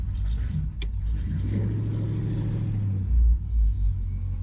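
A 1976 Chevy Malibu Classic with rear brakes hanging up drives off, its engine rumbling steadily up close with a brief click early and deeper surges of revving toward the end.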